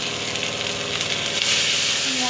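Spice masala frying and sizzling in a pan for a vegetable chachchari of stalks, brinjal, pointed gourd, ridge gourd, potato and jackfruit seeds, a steady close crackle throughout with a faint voice underneath.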